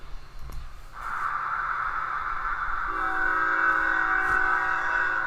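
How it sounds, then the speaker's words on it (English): A train horn sounds as a steady, loud sustained tone that swells and gains a lower second note midway, heard alone with a faint rumble beneath. "Can you hear a train?"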